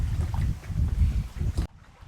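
Strong wind buffets the microphone outdoors during a morning yoga session, a loud continuous low rumble that cuts off abruptly near the end.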